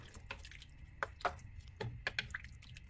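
Filipino beef mechado stew with beef broth and tomato sauce simmering in a pot, giving faint scattered bubbling pops and soft liquid blips at an irregular pace, quiet and close.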